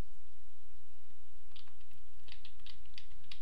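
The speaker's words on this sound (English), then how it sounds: "But my keyboard is really clackety" A clackety computer keyboard is typed up close. After a quiet start, a cluster of sharp key clicks comes in uneven rapid bursts, with no talking.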